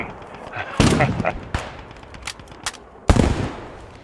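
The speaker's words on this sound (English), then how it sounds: "those are friendly tanks shooting at us, by the way" Friendly tanks fire in Squad 44 on a North African desert map, with loud sharp cannon blasts and gunfire cracks arriving in irregular bursts over a noisy battlefield.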